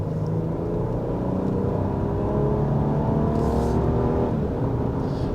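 A 2026 Nissan Armada NISMO's engine revs through its NISMO exhaust, a deep, steady throbbing drone that swells slightly mid-way before easing back, heard close and without talk.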